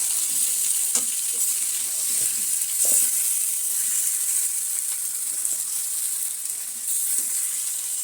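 Potatoes and pointed gourd fry in a pan over well-cooked spices, giving a steady, close, bright sizzle and hiss throughout, with a few soft stirring clatters and no talking.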